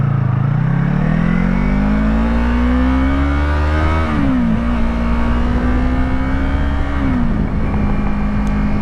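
A car engine revs hard and loud, its pitch climbing steadily, dipping twice as it shifts, then holding at a high drone.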